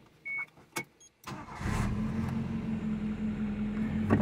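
A 1997 Toyota Starlet Glanza V, an imported Japanese car, starts up: a few faint clicks, then a brief starter crank that catches, settling into a steady low engine idle heard up close.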